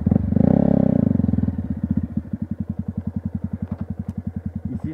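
A Yamaha YZF 125 R sport motorcycle on a motocross track revs hard up close, then drops into a loud, rhythmic, rapidly pulsing single-cylinder chug that carries on to the end.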